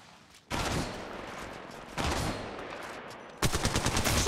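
Gunfire in the mobile battle royale game Apex Legends Mobile, three loud bursts of rapid automatic shots, the last sharply chattering, with no talk over them.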